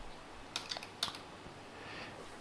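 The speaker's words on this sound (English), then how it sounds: "So we must type in slash, and then let's type in hello." Someone types on a computer keyboard close by, giving a short run of about half a dozen crisp key clicks in two small bursts over quiet room noise.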